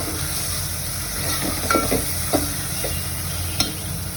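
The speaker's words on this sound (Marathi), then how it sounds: "मसाल्यांना मी एकदम परतून घेते एकत्र" Spices sautéed together in a pan for Goan-style prawn pulao, a soft steady sizzle with a few light stirring scrapes and taps, close and quiet, no talking.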